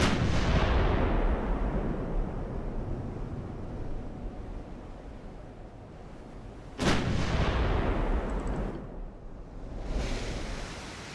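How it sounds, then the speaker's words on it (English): Warships trading naval gunfire in Ultimate Admiral: Dreadnoughts, heavy booming salvos with long rumbling tails over a sea-like wash, a few spaced blasts at a steady pace, loud and alone. "we've got a pretty steady rate of fire here"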